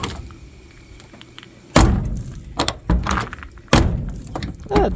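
Door of a rusty, partly repaired Ford Maverick Grabber shuts with a loud, solid thunk at close range, followed by a second heavy closing thud and a few smaller clunks and rattles in between.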